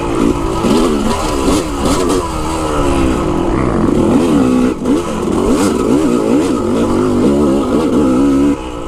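Motorcycle engine revving while riding near Georgetown, a loud, close, continuous drone whose pitch climbs and falls repeatedly with throttle changes and wind noise.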